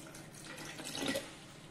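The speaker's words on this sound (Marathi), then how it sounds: "पाणी टाकून घेऊया।" Water poured into a vessel for amla sharbat with mint leaves and ginger, a soft continuous splashing pour, quiet and close, swelling briefly near the end.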